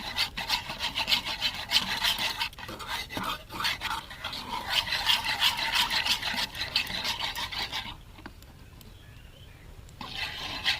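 Sondesh dough being mixed with a hand whisk, a steady scraping, rubbing rasp running continuously for most of the span before dropping away near the end, then resuming briefly.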